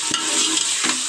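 Ginger garlic paste fries in a pan for aloo gosht, giving a close, continuous hiss and sizzle with two brief stirring scrapes, and no one speaks.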